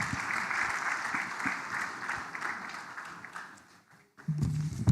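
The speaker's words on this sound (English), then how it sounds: "Loud round of applause." Audience at an investment forum gives a round of applause, dense steady clapping that gradually fades, followed by a brief pause and a low voice over a microphone.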